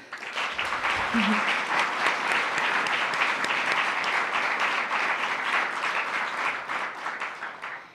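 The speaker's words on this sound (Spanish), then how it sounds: "me encantaría pedir un aplauso para todos nosotros" A crowd at a meeting with Ecuador's Olympic athletes breaks into sustained, even applause that fills the room for about eight seconds, with a brief low voice near the start.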